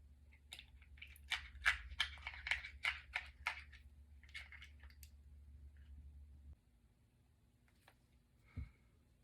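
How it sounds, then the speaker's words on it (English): Black paste is stirred in a container, giving a run of soft wet squishing and clicking strokes, close and quiet, that trail off into near silence with one last faint tap. "I'm going to take my black paste, and I'm going to give it a good stir as well."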